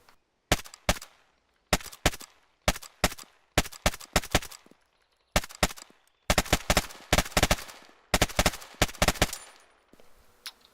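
Mark 20 rifle firing 5.56 rounds in a video game: loud, sharp bursts of rapid automatic fire, several short volleys separated by brief pauses, close and alone with no talking.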